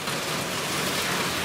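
Heavy rain during a thunderstorm with hail, beating on surfaces while water flows down the street, a dense, steady hiss with no voices.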